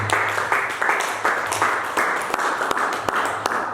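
A church congregation claps and cheers for Jesus in a steady, sustained burst of applause over low musical tones, with faint voices mixed in.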